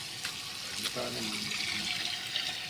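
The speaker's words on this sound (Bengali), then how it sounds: "এখন এটাকে পানি দিয়ে দেবো" Water runs into a cooking pot with a soft, continuous splashing pour, faint and close, while people talk nearby.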